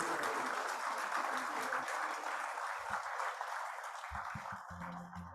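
An indoor audience applauds the winners at a brand awards ceremony, with sustained, dense clapping from a crowd that slowly tapers off toward the end.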